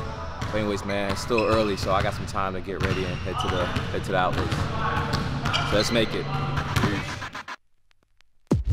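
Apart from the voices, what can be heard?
people playing basketball nearby, ball bouncing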